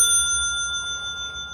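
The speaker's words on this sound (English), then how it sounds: "vintage Victorian looking bell, like something you'd have on a penny farthing or something" A steampunk, vintage Victorian-style bicycle bell on a Priority Classic bike rings once, leaving a clear metallic tone that sustains and slowly decays, heard alone and close.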